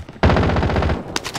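Automatic gunfire in the video game Call of Duty Warzone, a loud rapid burst of machine-gun shots lasting about a second, followed by a short sharp crack near the end.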